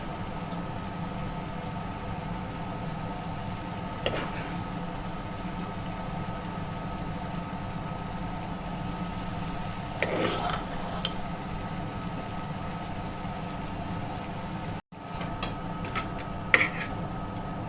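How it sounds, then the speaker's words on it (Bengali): Boiled lentils for egg tadka stirred and sautéed with spices in a pan, a low steady sizzle with occasional scraping stirs, fairly faint, with no talking. "এবার মশলার সঙ্গে ভালো করে কষিয়ে নেব।"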